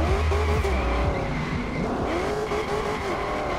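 McLaren car in the Forza racing video game, a loud close engine roar with shifting pitch and tire squeal as it slides through a corner, continuous throughout.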